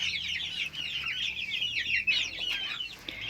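Chickens, three hens and a rooster, clucking and chattering together at close range, a steady busy flock sound with no talking.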